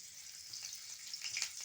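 Parboiled yellow cauliflower florets fry in oil, a faint, steady hiss of sizzling with light crackles near the end, heard alone without talk.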